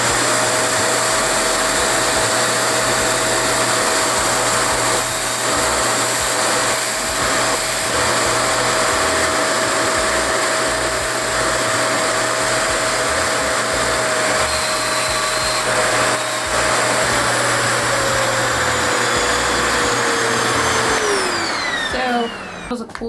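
A Revair reverse-air hair dryer runs on suction with a loud, steady whine and airy rush close to the microphone, holding constant before its pitch winds down as it shuts off at the end.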